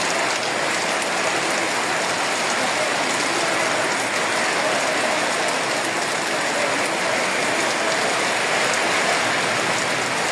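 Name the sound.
rain still falling after a storm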